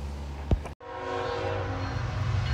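A train rumbles by with a sustained, tonal horn blast over the steady rolling noise, loud and fairly close.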